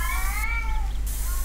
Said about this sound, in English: Why is it meowing? Is it not dead?